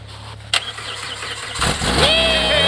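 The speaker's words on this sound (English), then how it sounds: "Key on. Full throttle." An off-road side-by-side UTV in subzero cold fires up at full throttle: a loud engine start that surges into a rising, revving roar and holds strong, with a sharp mechanical clack just before.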